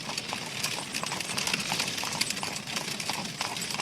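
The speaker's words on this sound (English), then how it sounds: "Then there was a jolting and a clattering of horses' feet." Continuous clattering of horses' hooves, a dense rapid clip-clop over a rumbling background, steady throughout.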